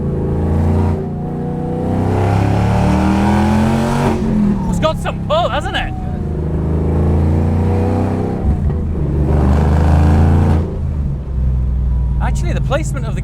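Supercar accelerating hard, engine revving up in surges with gear-change breaks and bursts of sharp mechanical crackle, heard from inside the car while people talk over it.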